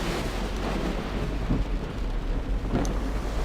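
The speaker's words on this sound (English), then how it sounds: "Fog and rain again." Steady rain pours throughout a video game scene, with low rumbles of thunder rolling in the background and a brief brighter crack near the end, no voices.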